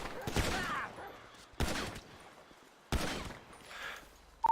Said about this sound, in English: We've had another 2 shots fired